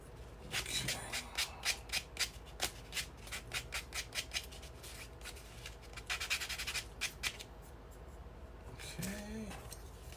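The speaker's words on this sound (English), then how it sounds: "So I got a new sanding thing from Grace." Nail sanding file rubbing on plastic parts of a Moebius 1/4105 Battlestar Pegasus model kit, heard as a run of short, close scratchy strokes in a steady rhythm with a few brief pauses.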